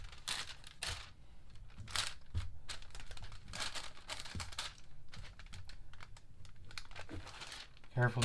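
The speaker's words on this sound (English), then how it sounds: "Carefully cover it with our wax paper." Wax paper crinkles and rustles in repeated bursts as it is handled and pressed over a photo on a candle during a craft project, fairly close and steady throughout.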